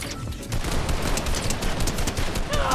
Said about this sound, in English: Look, he's just shooting. He's just shooting at nothing.